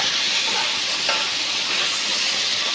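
Tomatoes dropped into a hot pan of sizzling okra (bhindi) on the stove, giving a steady loud frying hiss throughout with a brief soft splash near the middle, no voices.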